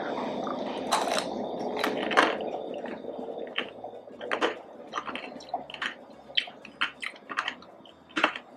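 Strawberry and grape tanghulu with a thin candy shell is chewed up close, a run of sharp crunches and wet squishy bites in an irregular rhythm, loud and near, without talk.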